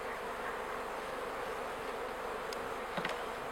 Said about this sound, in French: elle est pleine, apparemment elle est bourrée d'abeilles